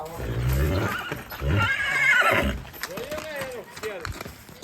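At a village wedding procession in Samadhiyala, an unruly horse lets out a loud, close whinny with rising and falling pitch, while people talk around it and hooves shuffle.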